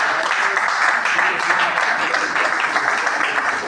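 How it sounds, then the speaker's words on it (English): An audience at a university reunion gathering claps loudly and continuously for a speaker, dense applause filling the short moment, with voices mixed in. "Please, another round of applause for you."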